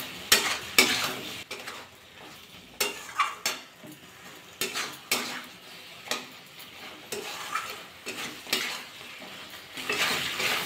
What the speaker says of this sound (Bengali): আবার একটু ভালোভাবে মিশিয়ে নেব।